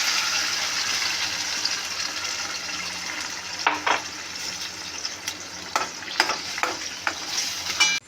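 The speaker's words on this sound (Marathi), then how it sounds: "कांदा लसूण अद्रकची जी पेस्ट काढलेली होती ती आपल्याला पहिल्यांदा या तेलामध्ये छान लालसर अशी आपल्याला करून घ्यायची आहे।" Onion, garlic and ginger paste fries in oil in a pan, a steady close sizzle broken by several scraping stirs toward the end, with no voices.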